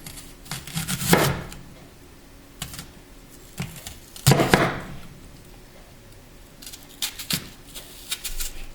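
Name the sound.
knife slicing onions on a cutting board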